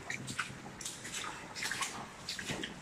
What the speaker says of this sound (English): You hear the waterfall, like, from here